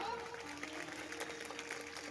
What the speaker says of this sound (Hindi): अरे जोर से ताली बजाओ।